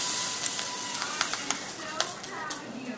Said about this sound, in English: Aw, eating that ice.